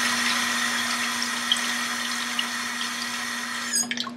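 Hot tap water runs steadily from a faucet into a bowl, a continuous close rushing stream with a low steady hum beneath, ending with a brief clatter and a few drips near the end.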